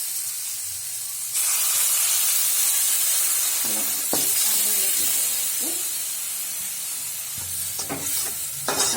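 Mustard and poppy seed paste frying in a pan for an Assamese brinjal fish curry, a steady close hiss and sizzle with occasional clinks of a stirring spoon.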